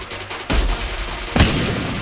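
Two loud, sharp gunshots about a second apart in the Apex Legends video game, fired through a Rampart shield, each with a booming report and a ringing decay, over a background of game ambience.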